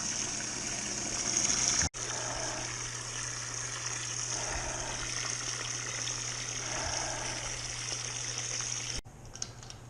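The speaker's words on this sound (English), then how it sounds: "we're filling some kettles for the brew water" Water running steadily into kettles for brewing a Munich-style beer at home, a constant close rush with a low hum beneath, cut off by two brief clunks.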